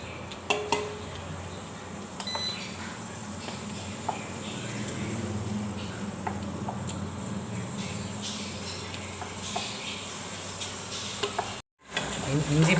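Ginger garlic paste and turmeric frying in a pan, a steady close sizzle with occasional scraping and clinks of a spoon against the pan, broken by a brief cut near the end.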